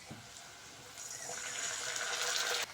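Water poured into a pan of fried onion and green chilli while making egg curry, a rising gushing pour that builds louder over a couple of seconds, with no talk.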